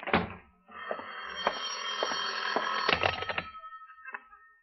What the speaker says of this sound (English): Your phone, John. Answer it